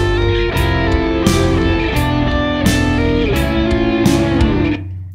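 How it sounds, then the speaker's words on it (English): A lead guitar plays a melodic motif first introduced on glockenspiel, part of a video game music arrangement, with sustained notes and repeated picked attacks over a full band backing, loud and steady throughout. "that lead guitar takes on the third motif"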